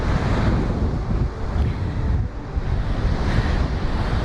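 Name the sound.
strong wind on sand dunes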